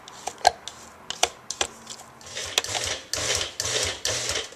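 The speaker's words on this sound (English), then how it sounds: "I'm going to actually take my spatula and just scrape the sides down" A spatula scrapes basil pesto down the sides of a food processor bowl, with sharp taps and knocks against the plastic followed by rhythmic rubbing scrapes close at hand.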